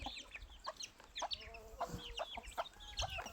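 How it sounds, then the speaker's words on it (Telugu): Chickens cluck close by in short, repeated bursts, with a few higher trilling calls mixed in over quiet background noise. "సిటీ కోళ్ళు చూడండి, సిటీ కోళ్ళు"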